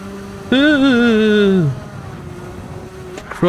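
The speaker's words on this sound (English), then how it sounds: "Let the revs drop then, I think." A car engine in a racing time trial holds a steady high whine, then its revs sink smoothly in pitch over about a second before fading into a low background hum.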